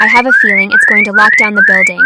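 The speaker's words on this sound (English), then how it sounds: "That's the alarm." A building alarm sounds in repeated rising electronic sweeps, about four cycles in quick succession, loud and close, while a person talks over it.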